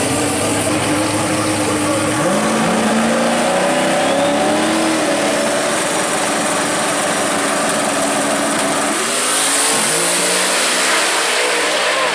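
A 1985 Ford Mustang launches at a drag strip on a no-time race day at World Wide Technology Raceway, its loud engine rising in pitch through rapid gear changes, with the roar of the run steady throughout.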